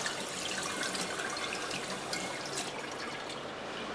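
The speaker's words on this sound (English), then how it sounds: "I'm going to wash my metal spoon up." Tap water runs steadily into a kitchen sink while a metal spoon is washed, a continuous soft hiss and splash with a few faint clinks near the middle, at moderate volume and with no voices.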